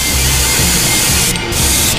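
Spray paint hisses from an aerosol can in a steady, loud, close rush that runs almost continuously, with one or two brief pauses near the end.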